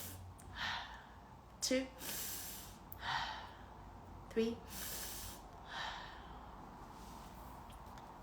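Several audible inhalations through the nose during a guided breathing exercise, soft breathy rushes spaced a second or two apart, with a voice counting and instructing between them.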